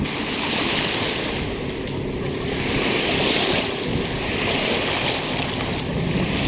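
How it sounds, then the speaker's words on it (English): Boats pass on the Ottawa River near a beach, heard as a broad, steady rush of water and surf mixed with wind noise on the microphone, loud and continuous with no talk. "So there's lots of boats zipping around."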